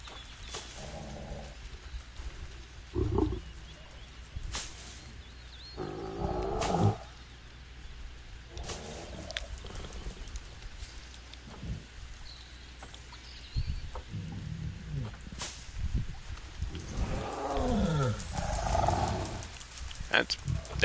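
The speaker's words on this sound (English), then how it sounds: "That's a wild noise that you are making, Mr. Tiger." A tiger at a zoo gives several rough, growling roars in separate bursts, fairly close and loud, with people talking quietly in between.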